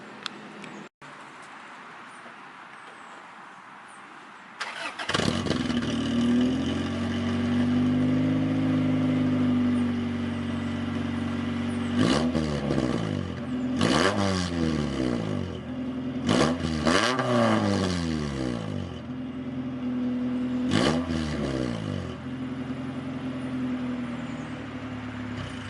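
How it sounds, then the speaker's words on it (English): A car engine with a straight-pipe exhaust starts and idles with a loud, raw note, then revs hard several times in sharp rising bursts before settling back. "we're gonna see how this thing sounds completely straight pipe"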